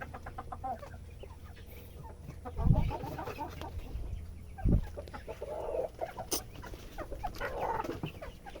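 Backyard chickens cluck softly at close range, one of them noticeably weak, with a couple of dull thumps and low background noise and no voices.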